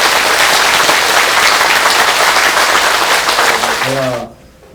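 Loud, dense applause from the audience at a temple Dharma talk during an all-night New Year meditation session, a sustained wash of clapping that cuts off abruptly near the end, with a voice briefly heard just before it stops.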